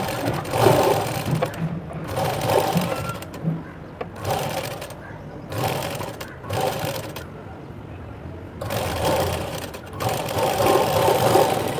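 A sewing machine stitching a blouse, running in several bursts of rapid mechanical whirring separated by short pauses, close by, with someone talking between and over the runs.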